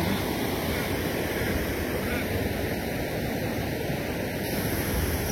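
A fast-flowing river rushes past a path with freshly exposed tree roots and fallen trunks, a steady, dense broadband roar of water that holds unbroken and fairly loud throughout, with no talking.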